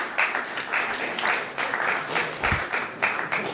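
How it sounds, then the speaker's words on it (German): Lukewarm applause from a poetry slam audience rating a performance two out of ten, coming in uneven waves of clapping with small lulls between bursts. "So, wie wäre euer Applaus bei 2 von 10 Punkten?"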